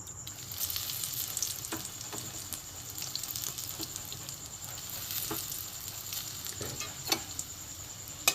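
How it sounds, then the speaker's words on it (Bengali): Dried red chilies spit and crackle in hot mustard oil for tempering, a faint continuous sizzle with scattered light pops and occasional soft stirring clicks, no talk. "এখানে সর্ষের তেল দিয়েছি এখানে ফোড়নে দেবো শুকনো লঙ্কা"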